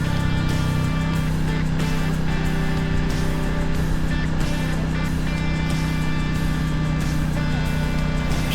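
A Royal Enfield Classic 350 motorcycle rides steadily through vineyard country, its engine giving a constant close drone with wind rushing over it.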